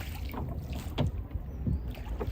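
A boat moving across open water, with a steady wash of water and wind noise and a few soft splashes or knocks, no talk.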